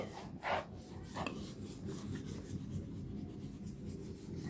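Board being wiped clean during a spoken-English class, a few brisk rubbing swipes followed by a soft continuous scraping rasp, close and fairly quiet.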